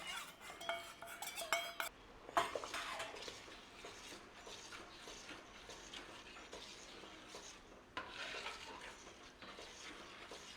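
Vinegar and corn flour being stirred into a vindaloo paste, with quiet scraping, clinking utensil strokes against the bowl and soft wet mixing, no talk.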